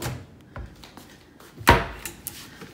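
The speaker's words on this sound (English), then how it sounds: "Another drawer." A drawer in a Hilton Grand Vacations king suite in Orlando, Florida is handled, giving soft scrapes and small knocks that lead to one sharp wooden thump, followed by lighter clicks nearby.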